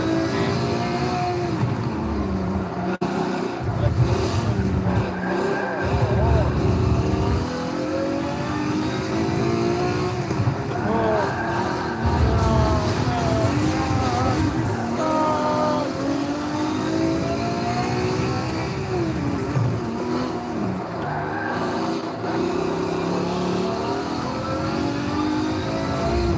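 Race car engine in Forza Motorsport 7, a loud steady roar rising and falling through gear changes, with revving and accelerating runs sustained for the whole stretch and other cars faintly around.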